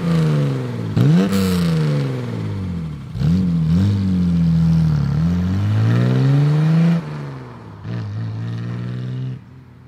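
An old car engine revs up repeatedly, pitch climbing with each gear then dropping between shifts, loud and close from inside the car.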